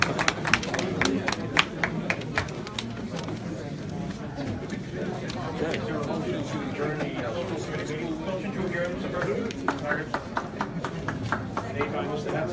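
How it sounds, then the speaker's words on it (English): Audience at a mayor's State of the City address in Fall River, scattered clapping and cheering mixed with crowd chatter and voices, steady and fairly loud throughout. "That's cheering."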